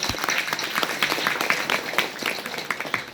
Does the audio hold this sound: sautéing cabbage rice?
no